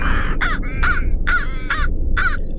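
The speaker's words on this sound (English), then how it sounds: "The man's red car was infested with ravens." Ravens cawing loudly and close, a series of about five harsh, evenly spaced calls over a steady background hum, with no voices.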